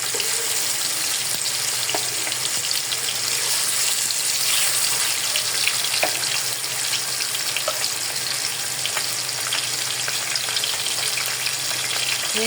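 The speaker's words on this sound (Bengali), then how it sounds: "আমি মাছগুলো এখন বেজে নিই প্রথমে" Hilsa fish frying in a pan, a steady soft sizzle with faint crackles and occasional clinks running throughout, no voices over it.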